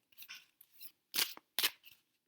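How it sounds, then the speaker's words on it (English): Tarot cards being shuffled by hand in a few short, crisp bursts of riffling and slapping with brief quiet gaps between them; no one speaks. "And I should need to stop shuffling."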